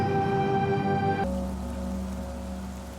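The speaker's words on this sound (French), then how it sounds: "Coach, j'ai horreur de m'entraîner sous la pluie." Icy rain in an animated football cartoon falls as a steady, dense hiss that starts loud and fades slightly, with a sustained tonal drone at first that cuts out abruptly partway through.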